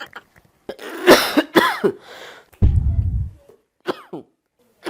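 A person coughs several times, some coughs harsh and throaty, in uneven bursts separated by brief pauses, close up.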